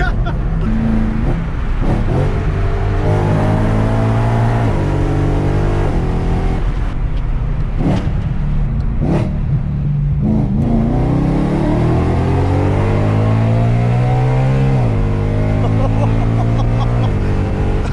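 A loud modified BMW E92 M3 engine revs up repeatedly to redline, pitch climbing high and dropping between pulls, with excited voices talking over the roar.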